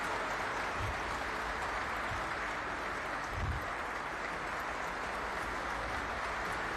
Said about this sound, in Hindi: इस दौरान पूरा राष्ट्रपति भवन तालियों की गड़गड़ाहट से गूंजता रहा।